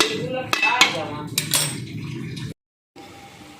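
A pan lid lifted off a cooking pan of lemon katla fish curry gives a few sharp metallic clinks and knocks over a low simmering bubble, then brief silence before the bubbling resumes.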